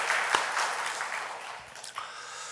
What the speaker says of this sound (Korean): 우리 박은선 집사님께 격려의 큰 박수를 보내주시기 바랍니다.